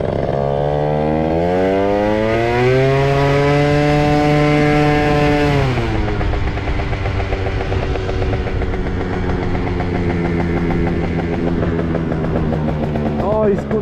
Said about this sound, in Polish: O, i skuter jakiś jedzie. Jakiś większy.